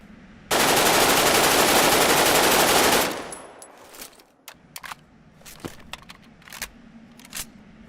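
Loud, dense automatic gunfire from weapons in a zombie survival video game roars continuously for about two and a half seconds, then gives way to scattered sharp single shots and clicks over a quieter background.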